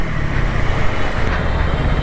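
A KTM Duke 250 motorcycle rides through stop-and-go traffic, its steady low engine drone and road rumble running continuously and fairly loud throughout, with no talk.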